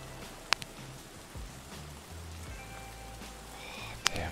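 Steady rain in the Escape From Tarkov video game, a soft continuous patter with a low rumble underneath and a couple of sharp clicks near the start and end.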